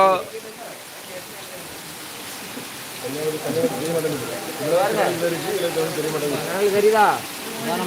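Heavy rain in Kanyakumari makes a steady hiss of falling water that stays constant throughout, while someone talks over it nearby.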